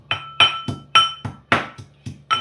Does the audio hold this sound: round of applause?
no